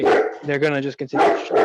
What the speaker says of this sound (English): Pardon my stupid dogs.